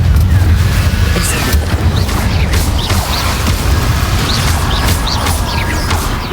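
Fiery blast of the Confringo spell in Hogwarts Legacy, a loud sustained roaring explosion with rumbling low end and crackling debris throughout, dense and close without pause.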